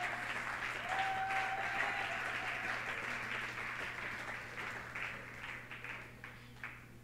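A church congregation claps steadily in praise of the Lord, a broad wash of hands heard somewhat distant and soft, with individual claps becoming more distinct as it thins out toward the end.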